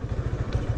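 A modified Yamaha FZ motorcycle idling nearby, a brief low, pulsing engine chug with a quick, even throb, heard alone and fairly faint.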